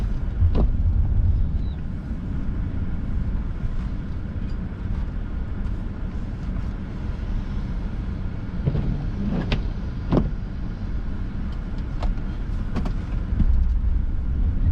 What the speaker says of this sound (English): Oh, we got a truck coming.